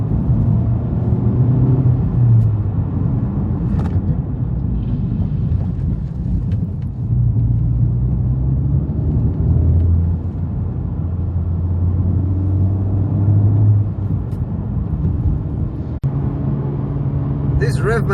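A Honda Civic Type R FK8 engine blips and settles during rev-matched downshifts: a steady low rumble with brief rises, heard from inside the cabin over road and wind noise.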